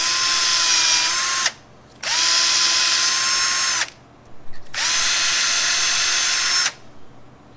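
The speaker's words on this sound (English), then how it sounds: "Go use the drill bit method and clean that up a bit" A power drill runs three times in long bursts with short pauses between, a steady high whine, as a drill bit clears out a plugged, rusty brake bleeder on a 1974 Chevy Camaro that sat abandoned for 24 years.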